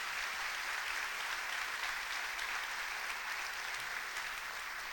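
A church congregation applauds steadily, a dense, even patter of many hands clapping at a moderate distance, sustained without pause and with no talking over it.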